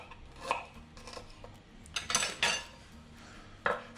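A knife cutting a vegetable on a board, a handful of separate crisp chops and clicks at irregular intervals, close and fairly quiet with no talk.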